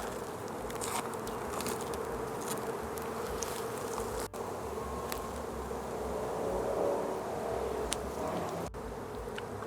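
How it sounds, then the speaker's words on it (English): A dense, continuous buzz of many bees in a hive on a porch, just opened, swarming close by, steady and loud throughout with no voices. "Look at all those bees in there."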